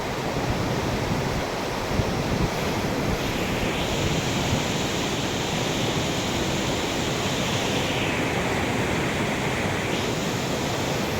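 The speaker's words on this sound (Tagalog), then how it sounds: "Grabe yung impact ng tubig mga kaibigan." Loud, constant rushing water of the Aklan River roars without a break, a dense wash of noise close by with no voices.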